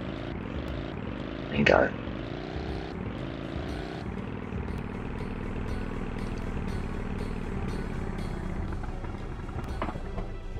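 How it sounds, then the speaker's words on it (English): A quad bike engine in Tomb Raider 3, at the River Ganges level, revs with a rising, droning whine that holds steady, while someone talks over it. "the quad bike. Give it a rev, holding on to an X."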